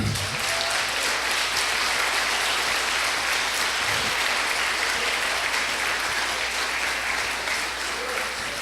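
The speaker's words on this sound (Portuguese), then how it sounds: "Vamos aplaudir o Senhor." Church congregation applauding during a resurrection sermon: dense, sustained clapping from a large crowd that fills the room evenly for several seconds.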